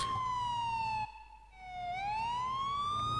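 A police siren in GTA 4 wails loudly in a steady rising and falling sweep, briefly dropping away mid-way before swelling back up close by.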